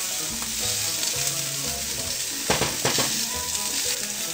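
Pork loin frying in a hot pan, a steady loud sizzle that carries through the whole stretch, with brief scraping bursts as the meat is stirred partway through.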